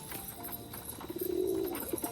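Rajshahi pigeons cooing close by at feeding time, a soft low throaty coo swelling near the end over a faint background with a few brief rustles, no voices.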